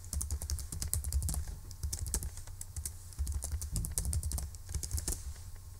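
A computer keyboard typed on at a desk, quick irregular key clicks in bursts with short pauses, close and fairly quiet, no voices.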